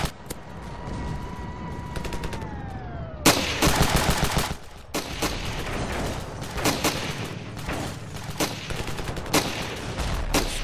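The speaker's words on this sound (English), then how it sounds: "this DMR is also full auto" Full-auto DMR rifle fire in the video game Ravenfield, with long loud bursts of rapid shots after a quieter opening, continuing in dense volleys with brief pauses.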